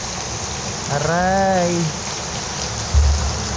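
Heavy rain pours down as a loud, constant hiss throughout, and a person lets out one brief exclamation midway through the downpour.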